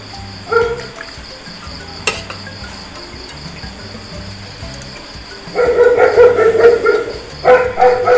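A house dog barks in short bursts, first a single yelp and then a run of loud, close barks near the end, over a steady background of insects chirping.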